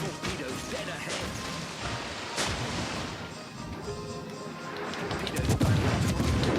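Heavy naval guns fire from an HMS Hampshire warship in World of Warships: Legends, booming crashes and blasts scattered through continuous battle noise, with a spoken voice over the action.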